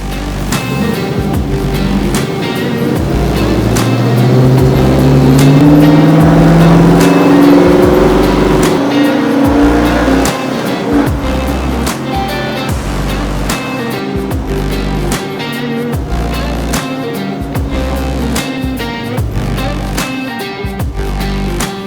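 A 1965 Chevrolet Impala fitted with a Tremec TKX 5-speed manual transmission drives along, its engine droning loudly and rising in pitch through the gears before settling into a steady cruise, with no talking.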